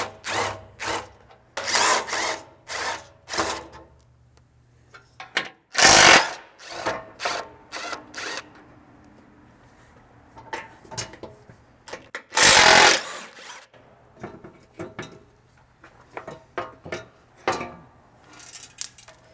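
A power tool removes 12mm factory bolts from the skid plates of a 5th-generation Toyota 4Runner, in short bursts of whirring and rattling with clanks between, and two louder longer runs, under a faint background hum.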